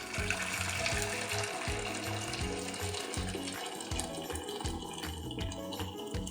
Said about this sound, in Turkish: Ardından sıcak suyumuzu ekliyoruz.